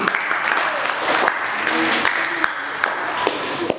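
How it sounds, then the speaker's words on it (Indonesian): Applause at a primary school quiz competition at Vihara Guna Vijaya, a full crowd clapping steadily throughout with a few louder individual claps standing out. "Tepuk tangan untuk berdiri"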